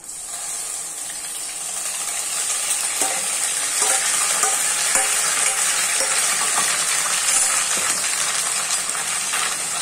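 Milk-soaked semolina poured into caramelized sugar and stirred in a pan while making makhandi halwa: a loud, steady sizzle and bubbling hiss with soft scraping stir strokes underneath, continuous throughout.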